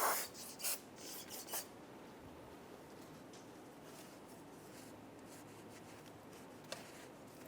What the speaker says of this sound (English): Using a wire brush, we're going to clean all of the contact points for the shoes.